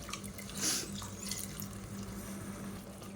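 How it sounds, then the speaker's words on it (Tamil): Tap water runs and splashes into a mixer grinder jar as it is rinsed and filled during home cooking of a Tamil brinjal curry, a steady close wash with a brief louder gush near the start. "இப்போ மிக்சியை அலசிட்டு கொஞ்சமாக தண்ணி சேர்த்துக்கலாம்."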